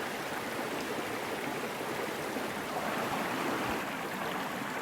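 Buck Creek flows steadily through Pisgah National Forest, a continuous broadband rush of shallow moving water heard alone at a moderate, even level.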